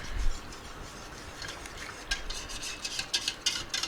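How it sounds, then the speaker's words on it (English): Spoon stirring potato soup seasoned with celery salt and thyme in a pot, a soft scraping and rubbing with a run of quicker strokes toward the end, close and alone. "I'm going to give it a mix."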